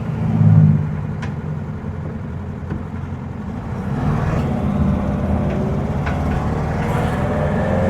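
A 1961 VW Beetle on a short test drive, its air-cooled engine droning steadily with road and wind rumble, rising slightly in pitch as it accelerates, heard from inside the car with no talking.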